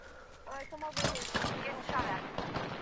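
Gunfire in the video game Apex Legends: several sharp, loud shots crack in a quick cluster near the middle, with voices talking over and around them.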